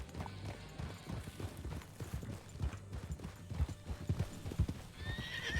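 A horse's hooves clip-clop in a steady trot inside a Red Dead game, close and continuous, with occasional snorts and a brief whinny near the end.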